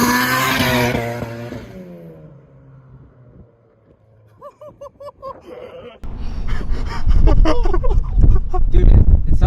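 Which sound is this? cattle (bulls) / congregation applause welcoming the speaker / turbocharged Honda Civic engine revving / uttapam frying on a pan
turbocharged Honda Civic engine revving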